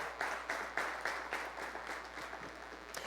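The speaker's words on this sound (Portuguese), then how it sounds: "Aplauda o Senhor." A church congregation claps steadily for a few seconds during a Wednesday worship service, with bursts of applause rising and falling in a reverberant room.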